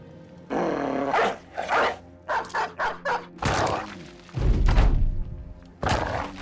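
Battle dogs bark, growl and snarl in the Battle Brothers video game, sounding as loud close bursts and a quick run of yips, with heavy thuds and combat impacts between them.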